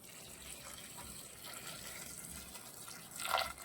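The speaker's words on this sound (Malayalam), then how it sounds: "ഈ വെള്ളം തിളച്ച വെള്ളം നമുക്ക് ഇതിലേക്ക് ഒഴിച്ചു കൊടുക്കാം" Boiling water is poured into a bowl, a soft trickle that builds to a brief splashing gush near the end.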